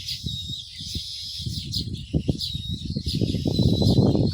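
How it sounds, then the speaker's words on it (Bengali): Birds call around baya weaver nests in a palm tree, a mix of bright chirps and twittering high above a busy, rumbling outdoor background that grows louder toward the end. "এখান দিয়ে গেলে পাখির ডাকগুলা শুনুন আপনারা"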